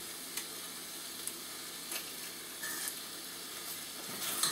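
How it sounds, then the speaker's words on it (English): Vegetables in basil tomato sauce cook in a pan with a steady, soft sizzle and bubbling, broken by a few light stirring scrapes and clinks, close and without talk. "We're going to cook that now for about 5 or 10 minutes until all the vegetables have softened"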